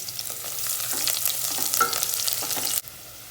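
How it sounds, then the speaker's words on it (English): Garlic, green chilies and ginger pieces roasting in a pan, giving a steady close sizzle with light stirring scrapes that carries on for about three seconds and then drops away abruptly. "add the garlic, green chilies and ginger pieces and roast it for a minute"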